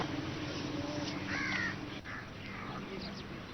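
A flock of about 30 crows caws around a man feeding them snacks in the morning, harsh calls overlapping in a noisy outdoor scene under a steady background wash.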